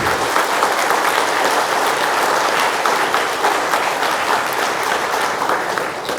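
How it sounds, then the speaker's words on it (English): Audience at an AI summit in Hyderabad giving loud, dense, continuous applause that holds steady throughout the clip. "Can we get a louder applause, please? More energy."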